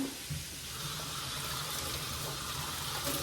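Tap water rushing into a container in a kitchen, a steady, broadband splashing hiss running throughout at moderate loudness with no talk.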